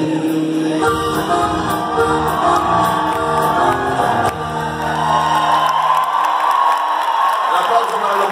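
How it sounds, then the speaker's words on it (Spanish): A concert crowd in Riverside, California, claps and cheers loudly over live music by Diego Verdaguer, with whoops and shouts rising from the audience throughout. "Un aplauso para los compositores"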